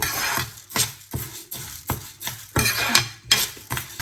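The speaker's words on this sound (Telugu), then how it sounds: "కందిపప్పు కూడా దోరగా వచ్చేదాకా ఫ్రై చేసుకోవాలి" Tur dal being dry-roasted in a pan until golden, with a spatula scraping and stirring in a regular rhythm of about two or three strokes a second, loud and close over a faint background sizzle.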